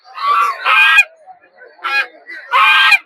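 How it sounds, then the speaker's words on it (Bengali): Ducks quack loudly and close at a village livestock market, with drawn-out honking calls in several bursts separated by short quiet gaps. "এদিকে রাজা হাঁস দেখতে পাচ্ছেন"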